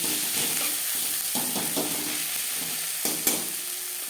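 Onions sizzle and crackle steadily in a hot pan while cooking fish curry with green tomatoes, with occasional scraping stirs breaking through the constant frying hiss; no voices.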